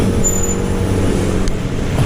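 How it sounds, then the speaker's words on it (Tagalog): Steady road traffic with vehicles passing one after another, cars and heavier buses or trucks making a continuous broadband rumble at moderate loudness, with no voices. "tignan nyo yung mga sasakyan na yan ah, sunod-sunod oh. Kaya alam kong traffic eh."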